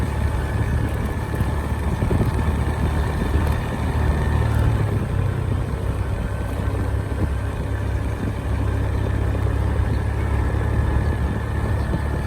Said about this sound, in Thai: ขับมอไซค์